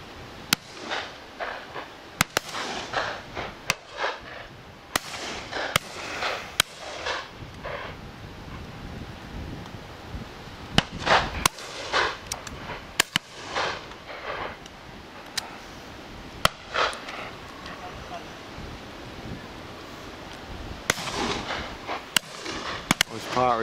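Repeated sharp shotgun blasts at a pheasant and partridge shoot in Dorset, England, in November crack out at irregular intervals, some close and some farther off, over gusty wind noise and occasional voices.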